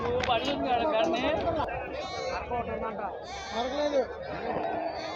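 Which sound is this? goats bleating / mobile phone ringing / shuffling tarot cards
goats bleating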